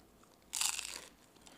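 Crisp paper being crunched and crumpled up close, a dense burst of crackling lasting about half a second, then quiet.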